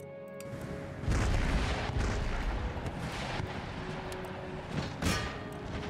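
Howitzer artillery fire in the strategy game Empire: Total War sounds as a dense, continuous rumble of distant cannon blasts, with a few sharper bursts standing out.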